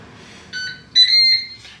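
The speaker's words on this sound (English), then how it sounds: "And we've beeped." A Ninja Speedi cooker signals the end of a bacon cook with short electronic beeps: a brief tone, a pause, then a longer, louder beep, clear over a quiet kitchen.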